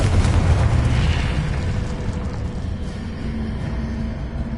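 Confringo blasting spell explosion in Hogwarts Legacy, a heavy booming burst at the start that rolls into a long rumbling decay and fades to a lower steady roar.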